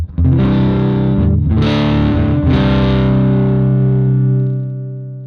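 Loud, heavily distorted electric guitar chords ring out through an overdriven Roland Jazz 120 amp model on an Axe-Fx III with the input pushed, crunchy and sustained, fading slightly at the end.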